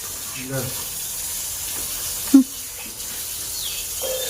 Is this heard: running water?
yes